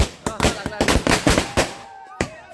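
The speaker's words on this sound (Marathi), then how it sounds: "अरे फटाका कसा लावता रे अरे फटाके कधी" Firecrackers burst at a Tulsi wedding celebration in the Konkan region: a quick, close run of sharp pops and bangs, several in rapid succession then a last isolated crack, with people talking and calling out around them.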